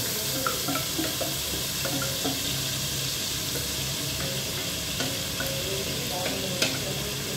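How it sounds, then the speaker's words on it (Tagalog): Onions frying in oil in a home kitchen, a constant close sizzle and hiss with scattered light clicks and stirring scrapes, no voices. "Add natin yung sibuyas sa oil."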